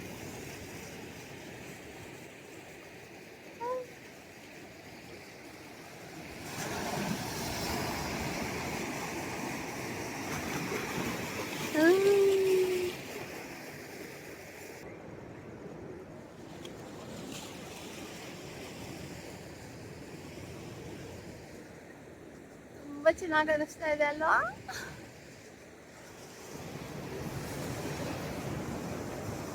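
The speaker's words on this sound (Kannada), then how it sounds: "ಅಲೆಗಳು ಅಲೆಗಳು ಬರ್ತಾ ಇದೆ" Ocean waves at Kanyakumari wash in on the shore with a soft, rolling surge that swells and fades, mixed with some wind; a voice speaks briefly near the end.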